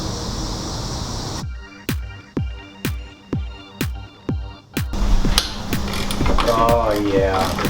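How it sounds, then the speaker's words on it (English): Close-up ratchet working loose a nut on an old Vanagon's exhaust: a run of about seven sharp, evenly spaced clicking strokes, then faster ratcheting and clattering metal, with a voice talking faintly in the background. "Busting that nut right off."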